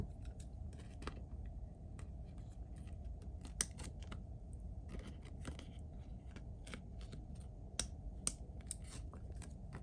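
Scissors snip excess material off a beaded sticker pocket, a string of faint, quick crisp clicks and cuts in irregular rhythm close by, over a low steady room hum.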